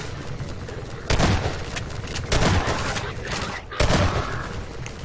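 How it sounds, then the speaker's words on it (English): Gunfire in the video game Half-Life 2, loud bursts of shots and booming impacts over a busy battle din, arriving in several strong clusters. "It would appear that shooting somebody in the butt does not kill them"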